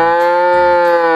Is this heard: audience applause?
no